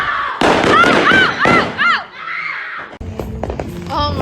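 Fireworks burst outdoors at a chaotic display, a fast series of loud whistling, crackling pops near the start followed by scattered smaller bangs, with people shouting and talking over them.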